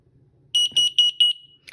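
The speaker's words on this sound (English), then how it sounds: "So if it did detect anything, it would turn red and it would beep like that as well." Four loud, shrill electronic beeps in quick succession from the test button of a Siterwell plug-in carbon monoxide detector, each short and evenly spaced, followed by a faint chirp.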